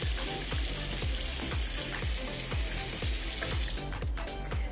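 Water runs steadily from a hotel bathroom sink faucet in a room with dual sinks, a constant close hiss and splash holding for several seconds before easing off near the end.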